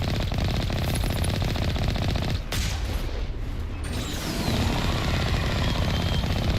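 Rapid automatic gunfire in Mass Effect, a dense rattling stream of shots that carries through the whole stretch, loud and close, with a short blast near the middle and no voices.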